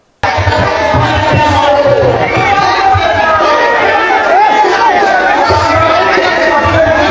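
A large crowd gathered for a statue unveiling in Badkagaon, Jharkhand, roars with continuous loud chatter and shouting, a dense hubbub of many voices filling the whole stretch.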